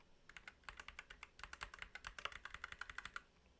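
Fast typing on a computer keyboard while writing code, a close, dense run of crisp key clicks in quick bursts with brief gaps, heard alone in a quiet room.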